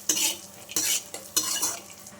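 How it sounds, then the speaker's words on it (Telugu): Chopped dry fruits fry in oil in a kadai while a spoon stirs them, making close, repeated scraping strokes over a soft sizzle. "ఇలా కట్ చేసి డ్రై ఫ్రూట్స్ని ఫ్రై చేసుకోవాలి."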